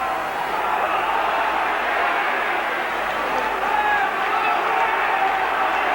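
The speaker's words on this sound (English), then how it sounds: "Warrington fans now cheering their team on" Warrington rugby league fans at the Lancashire Cup final against Wigan keep up a steady, loud crowd roar, a continuous wash of cheering with no clear breaks, and a commentator talks over it.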